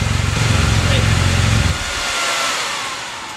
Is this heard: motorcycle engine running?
yes